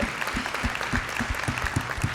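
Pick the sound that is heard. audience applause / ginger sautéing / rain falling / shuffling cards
audience applause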